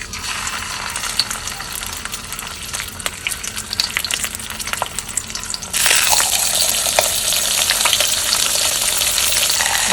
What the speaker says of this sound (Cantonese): 呢度係一邊魚頭同啲魚骨，而家煎下佢先至煲湯。